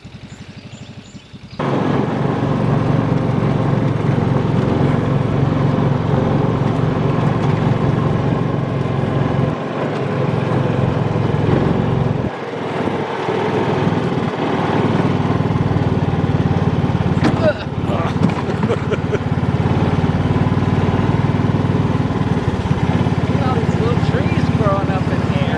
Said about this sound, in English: That buggy is really running like crap.